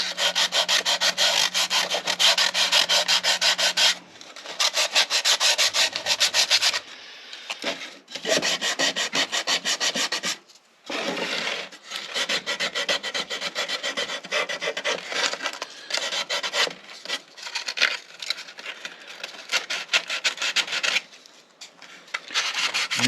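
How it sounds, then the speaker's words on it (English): Sandpaper on wood inside a concert ukulele body as brace edges are smoothed: continuous close rasping strokes that stop briefly now and then, with no voices. "I'm going to sand off the edges where the braces are."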